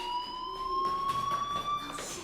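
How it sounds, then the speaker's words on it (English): A fire alarm rings steadily in the video game Life is Strange, a continuous electronic tone with high harmonics droning throughout at moderate level, with faint background noise and no speech. "do you hear that fire alarm?"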